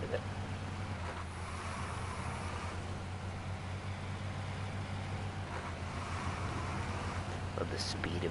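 Beat-up logging truck in SnowRunner driving through Wisconsin, a steady low engine drone running throughout at moderate level, with a person talking over it.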